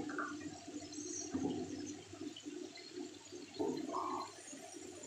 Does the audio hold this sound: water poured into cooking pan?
yes